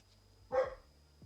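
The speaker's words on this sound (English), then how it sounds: "That was my dog." A single dog barks once at moderate distance, a short burst standing out over a quiet background hum on New Year's Day in a city neighborhood where firecrackers are being set off.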